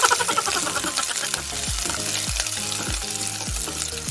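Onions sizzle and splatter in hot mustard oil for a Nepali chicken curry, a loud crackling fry with repeated stirring scrapes and pops in a steady rhythm.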